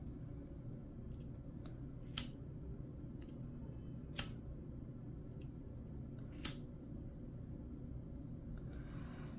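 Scissors cutting the side edge of a ribbon while making a luxury bow: three sharp, crisp snips spaced about two seconds apart, close by, over a steady low background hum.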